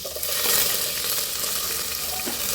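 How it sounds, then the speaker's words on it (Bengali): Onion, garlic, green chilli and tomato fry together in a pan, giving a loud, dense, continuous sizzle with faint bubbling and small pops, close up and alone. "পেঁয়াজ রসুন কাঁচামরিচ টমেটো সবগুলো আমি একবারে দিয়ে এগুলো ভেজে নেব"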